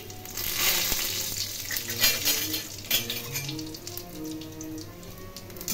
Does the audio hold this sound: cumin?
yes